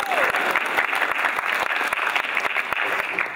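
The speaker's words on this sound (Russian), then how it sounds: "Давайте похлопаем Семену." An audience at a KVN comedy league game applauds a newcomer named Semyon, a dense, continuous spatter of many hands clapping at close range, with a brief vocal tone at the start.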